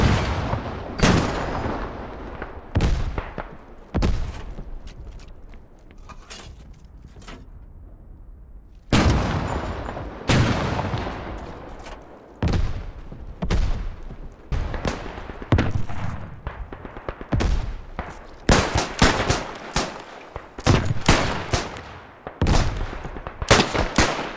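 Gunfire and explosions from the video game Beyond the Wire, loud and heavy, with sharp shots and deep booms cracking out in irregular bursts and brief pauses between them, no voices.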